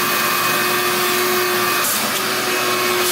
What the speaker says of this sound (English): All right, let's get a vacuum in there.